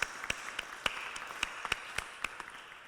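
Audience applause for event helpers at a local candidate forum on housing: a sparse, moderate round of clapping with individual claps popping out over a light wash of hands.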